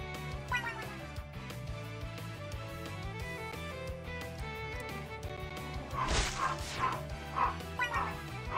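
A pet dog barking at home, a few short yips and barks standing out over a busy, dense background of music and game noise.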